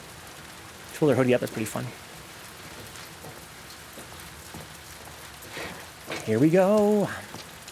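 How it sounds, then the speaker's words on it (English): Steady rain falls outdoors in The Last of Us Part II, a soft continuous patter throughout, with a person talking over it twice. "Kind of cool how when you come outside, the sound of rain is louder."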